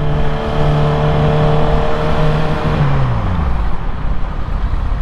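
Yamaha YZF-R6 sport motorcycle engine revving steadily and loud up close, then the pitch drops as the bike pulls away and sets off.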